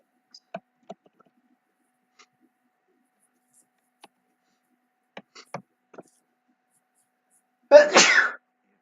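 One loud, sharp sneeze bursts out near the end after a long stretch of near silence broken only by scattered faint clicks and taps.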